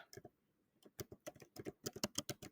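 Typing on a computer keyboard, quiet close key clicks coming in a short burst, then a pause, then faster, denser runs of tapping.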